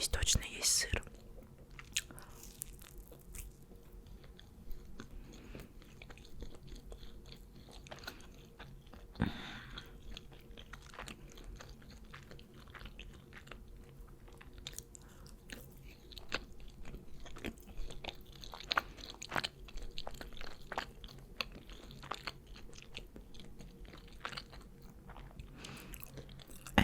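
Close-up ASMR eating of McDonald's menu items, with soft wet chewing and biting running steadily throughout, occasional crunchy bites and faint whispery breaths, no clear talking.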